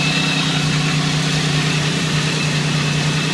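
A car engine idling after transmission lines were changed, a steady close mechanical drone with a constant low hum, running evenly with no talk.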